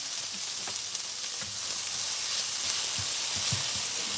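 Christmas dinner leftovers reheating in a pan on a stovetop give a steady, moderate sizzle and hiss, with occasional soft stirring knocks and no talk.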